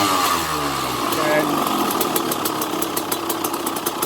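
A KTM 200XCW two-stroke dirt bike engine revs and falls back as the throttle is flipped, running loud and close and ending in a fast, rattling idle.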